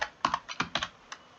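Someone types code on a computer keyboard, a handful of crisp, close keystrokes spaced irregularly over a second or so, with no speech.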